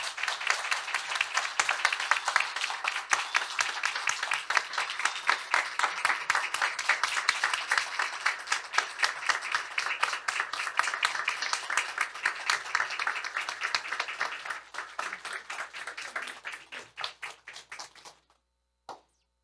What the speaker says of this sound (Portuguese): Eu gostaria de pedir a todos uma salva de palmas para a doutora Meire.